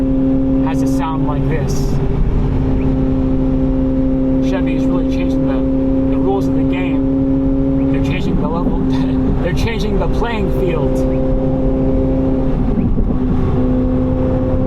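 A Chevrolet C8 Corvette Z06's naturally aspirated engine roars as the car accelerates through the gears on city streets, rising and dropping in pitch, with speech heard over the rumble.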